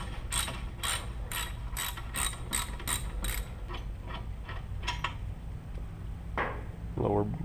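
A ratchet loosens the lower brake caliper bolt on a Hyundai Sonata during a brake job: a quick series of about eight sharp, close, rhythmic clicking bursts, followed by softer metallic handling noises and a final rattle.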